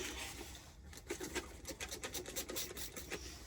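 A cleaning pad scrubs paint marks off the plastic body of a Hoover Elite Rewind vacuum, giving quick, close rhythmic rasping strokes that turn faster in the second half.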